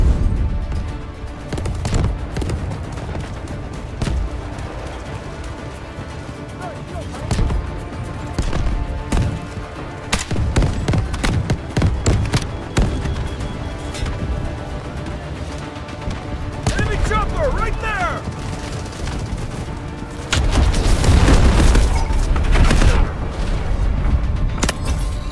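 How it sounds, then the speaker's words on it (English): Artillery shells land in the video game Delta Force Hawk Ops, with scattered booms and gunfire bursts throughout and a heavier cluster of blasts near the end, under background game sounds and occasional voices. "Incoming artillery."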